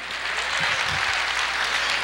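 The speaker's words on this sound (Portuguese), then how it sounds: "Pode aplaudir" Church congregation applauds during a sermon, a brief, even burst of crowd clapping filling the room, with a faint low voice briefly underneath.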